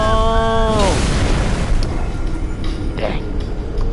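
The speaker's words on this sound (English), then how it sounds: "A lot of explosions." Loud booming explosions in a video game, a heavy rumbling blast rolling on under a falling tonal sweep, with smaller pops and bursts following.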